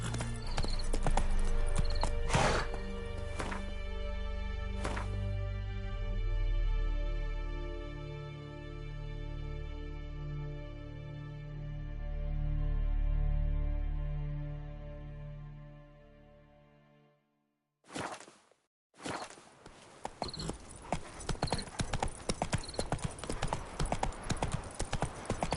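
Hooves of Roach, a horse in The Witcher III video game, clip-clop in a steady walking rhythm over a low droning music bed, then after a brief gap faster, denser hoofbeats follow.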